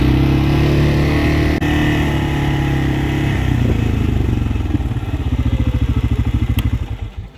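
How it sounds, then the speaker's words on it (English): A CFMoto C-Force side-by-side drives across a farm field, its engine droning steadily and loud up close before settling into a pulsing, throbbing idle-like rhythm as it slows near the end. "We're driving the C-Force right now"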